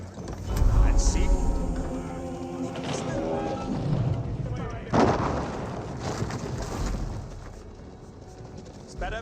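Trebuchet siege fire in the video game Age of Empires 4, heavy booming impacts and crashes repeating through a busy battle mix, with a strong hit near the middle, while a commentator talks over it.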